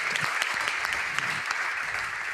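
A crowd at a Clash of Clans tournament cheers and claps loudly and continuously, a dense wall of applause with sharper individual claps poking through.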